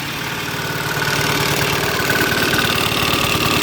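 A DIY 48-volt DC diesel generator engine idles loud and close, a steady rumbling chug with a fast, even knock that holds unbroken throughout.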